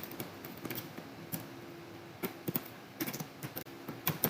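Steady clicking of fingers typing on a computer keyboard, irregular bursts of close keystrokes over a quiet background, no voices.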